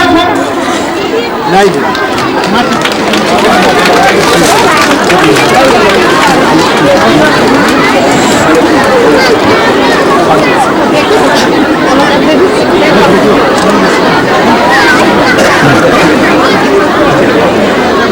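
Dense crowd chatter fills a school's annual festival in Gulmi, a loud, steady babble of many voices with no pauses, close and continuous throughout.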